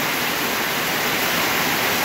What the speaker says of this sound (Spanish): Miren cómo está la lluvia.